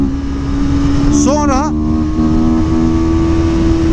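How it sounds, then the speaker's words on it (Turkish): A CLX 700 Sport three-cylinder motorcycle engine revving with the throttle held open, a loud steady drone close by, with someone speaking over it briefly. "8000'lere geldiğinde bir daha bir güçleniyor ve bunu size sesiyle birlikte de veriyor. Yani sesi değişiyor motorun."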